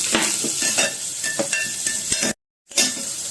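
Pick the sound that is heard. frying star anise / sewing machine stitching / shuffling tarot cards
frying star anise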